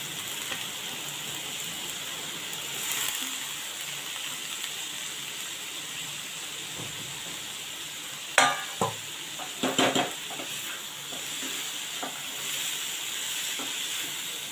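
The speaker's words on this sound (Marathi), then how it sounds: "आता जी भाजी चिरली होती पडवळची ती घालणार आहोत" Snake gourd tossed with lentils in a pan gives a steady soft hiss of frying under faint scraping, with a few sharper utensil clinks and scrapes near the middle; no voices.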